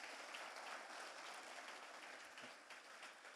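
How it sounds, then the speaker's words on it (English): Audience applause at a flash-talk session of a tech conference, a steady dense round of clapping throughout that tapers slightly toward the end, with no voices over it. "a loud round of applause for all these speakers"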